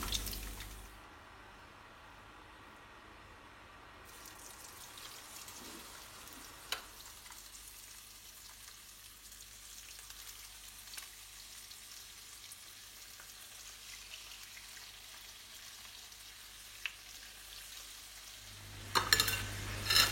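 Catfish pieces fry in hot oil, giving a steady soft sizzle with faint crackles and occasional clinks for about twenty seconds, ending in a louder burst of bubbling and scraping.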